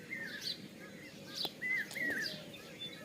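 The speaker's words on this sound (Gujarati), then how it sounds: "જો તમે વહેલા વહેલા કેવા પક્ષી બોલે છે કેવો અવાજ શાનદાર આવે છે" Several birds chirp and whistle in scattered, high calls at a distance in the early morning, over a quiet background.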